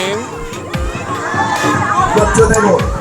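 Spectators at a company sports day football match cheer and shout, a loud, dense crowd roar with excited children's voices rising over it the whole time.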